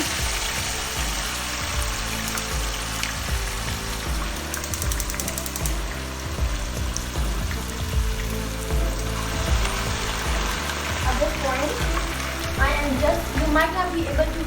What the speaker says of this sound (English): I'm just going to directly put the potatoes inside the oil